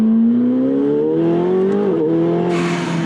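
A 900-horsepower Hydra Motorworks tuned McLaren 720S accelerating hard on a track, a loud close engine note climbing steadily in pitch, dipping briefly at a gear change, then pulling on with rushing wind.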